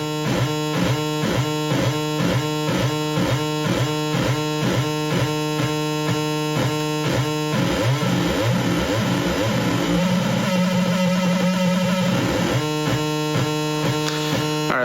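A Moog DFAM runs both oscillators in a fast repeating buzzy analog sequence. The pattern is loud and steady, and a clashing pitch sweep enters partway through.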